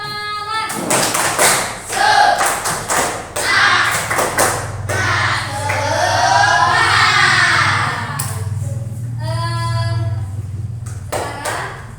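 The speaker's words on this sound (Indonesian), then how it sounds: "siap, tepuk semangat" A primary-school class claps out a rhythmic spirit cheer together, loud bursts of group clapping in patterned sets with children's voices chanting along between and over the claps.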